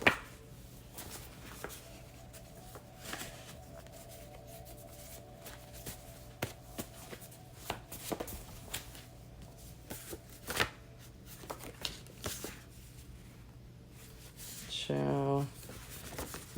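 A deck of tarot cards, too large to handle easily, is shuffled by hand in quiet soft riffles and rustles that spill out in chunks. Someone talks over the shuffling throughout, and a louder burst of cards comes near the end.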